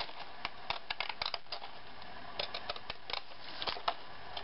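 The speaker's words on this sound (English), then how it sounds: "Take my deco scissors" Decorative-edge deco scissors cutting a sheet of red paper, a series of quick crisp snips and clicks in irregular bursts, close up and alone with no talk.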